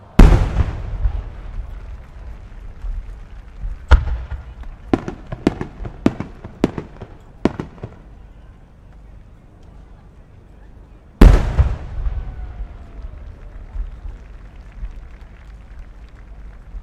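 Fireworks burst outdoors at the Omagari fireworks competition in Japan: a loud boom, then a rapid series of sharp cracks, a pause, and another heavy explosion echoing off into the distance.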